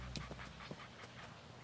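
A cartoon dog wearing a collar pants softly in a quick, rhythmic run of several breaths, faint and fairly steady throughout.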